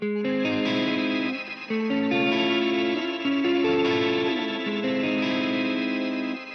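A sustained electric guitar through a shimmer reverb effect, lush chorus-like shimmer and long reverb tails, chords ringing and blending continuously at a steady, fairly loud level.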